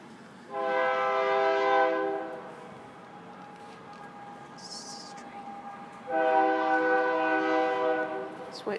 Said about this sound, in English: Just waiting for the train.